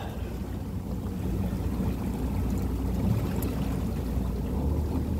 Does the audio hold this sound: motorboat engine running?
yes